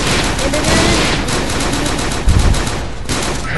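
Loud, rapid gunfire from the first-person shooter game UberStrike rattles in fast bursts throughout, with a heavier boom near the end.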